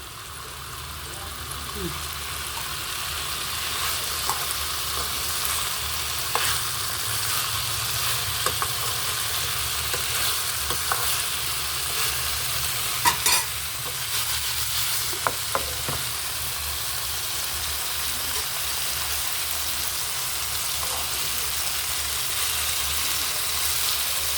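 Vegetables frying in a pan over a raised gas flame give a steady, continuous sizzle with occasional faint clicks and stirs, close and moderately loud throughout.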